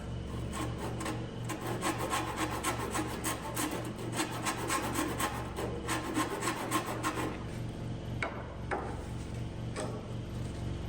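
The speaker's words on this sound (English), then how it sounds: "I do like this Shinto rasp." A Shinto rasp files wood on a wooden boat build, quick rhythmic scraping strokes in a steady back-and-forth pattern, close and clear, easing off near the end into a few lighter scrapes.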